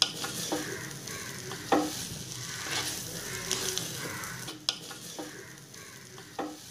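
Raw banana fry being stirred in a pan after spice powder is added: a close, steady scrape and clatter of a utensil with a soft sizzle underneath, and a few sharp knocks against the pan.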